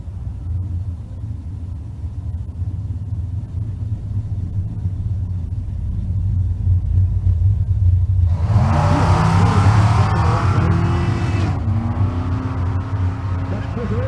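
A V6 Chevette drag car at a Kearney, Nebraska race week rumbles at idle, then revs hard into a loud, several-second launch roar before dropping back to a low rumble, with an announcer talking.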